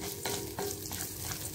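Spices and a small piece of tamarind dry-roasted in a pan over a medium flame, with a steady close sizzle and a few regular stirring scrapes, no voices.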